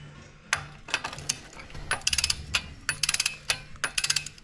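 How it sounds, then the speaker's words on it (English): Torque wrench ratcheting while engine bolts on a 318 street car motor are tightened in a star pattern: bursts of close, sharp metallic clicks, some quick runs and some single clicks, with short pauses between pulls. "so now we'll torque them down in like a star pattern like"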